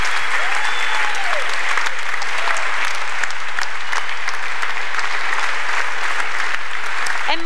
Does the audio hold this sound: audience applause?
yes